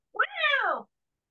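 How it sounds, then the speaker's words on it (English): A single cat meows close by, one clear drawn-out call that rises and falls over less than a second, followed by silence. "The cat!"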